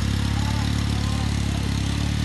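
A car built to look like a helicopter, with battery-driven fans, gives off a loud, steady droning hum with a strong low tone as it pulls away, unbroken from start to finish.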